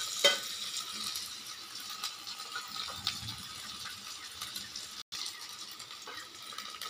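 Spices for a prawn curry sizzle and fry in a hot pan, a steady broadband crackle with a few stirring scrapes and clinks, moderately close and without talk.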